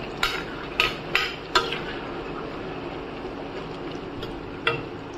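Food being stirred in a pan on the stove, a few sharp utensil scrapes and taps against the pan over a soft frying sizzle, close and without talk.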